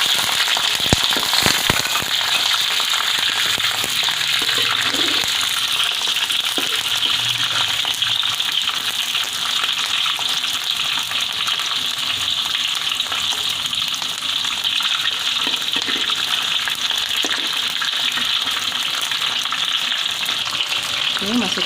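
Shallots fry in hot oil with cinnamon, cardamom and cloves, giving a loud, continuous, crackling sizzle close by for the whole stretch, with occasional sharper pops.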